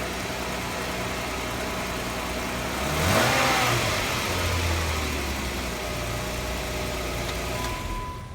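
Jeep JK engine idling after an oil change, a steady mid-pitched hum over a broad hiss, with one brief rev swelling midway before it drops back to idle.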